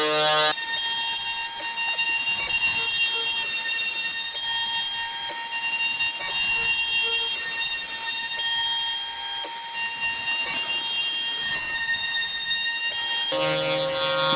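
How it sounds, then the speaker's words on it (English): A CNC router surfaces a spoilboard and shaves a thin layer off the board, its spindle giving a loud, steady high-pitched whine with a continuous cutting hiss and no talking. "As you can see, it's working its way out now. It's cutting,"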